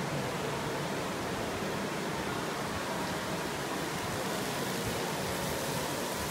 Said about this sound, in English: You can see waterfall.